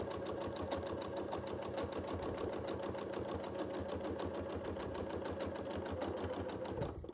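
A sewing machine stitches a quilt in a fast, even run of needle strokes, steady and close, with a motor hum underneath that stops abruptly at the end.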